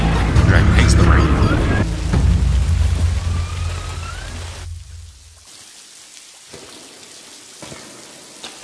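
Steady rain pours down in a House of the Dragon scene, loud and close for the first half with a low rumble underneath, then thins to a quieter patter as the scene shifts.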